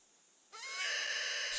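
An in-game animal call is blown to attract game in a hunting video game, likely an elk call. It starts as a quieter tone, then swells into a loud, sustained, high whinny-like bugle that holds to the end, with no talk over it.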